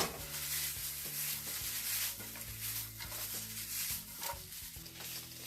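A stir-fry is stirred and tossed in a hot pan, giving a continuous sizzle with scraping, rubbing strokes of the utensil that come through close and steady with no talking.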